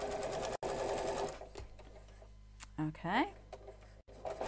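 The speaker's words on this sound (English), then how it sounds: "I'm going to pull this around so it's nice and snug and sew just around the curve there" A domestic sewing machine stitches fabric around a rounded corner, running in a steady close whir for about a second and a half before stopping, then a brief spoken word and a few light clicks.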